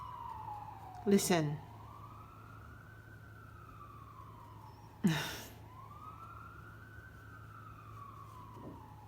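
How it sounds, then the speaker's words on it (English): An ambulance siren wails outside at a distance, rising and falling in long sweeps behind faint room noise, with a couple of brief nearby clatters. "Okay, is that the ambulance?"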